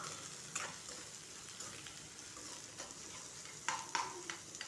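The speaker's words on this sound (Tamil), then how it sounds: "வெங்காயம் நல்லா வதங்கி லைட்டாக கலர் மாதிரி வரும் அது வரைக்கும் நம்ம வதக்கி எடுத்துக்கலாம்" Sliced onions sauté in hot oil, giving a steady soft sizzle with occasional scraping stirs of a spoon in the pan, fairly faint and close, without speech.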